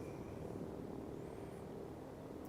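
The engines of a B-17D bomber in a flight game give a steady, loud propeller drone that holds at an even level throughout, with no talking over it.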